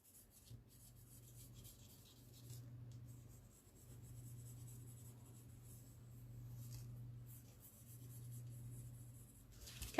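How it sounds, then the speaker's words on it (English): A heart shape is drawn on paper with soft, continuous scratching and rubbing strokes, faint and close, over a quiet low hum, with a brief pause midway and no talking. "so now I'm just going to draw a heart shape"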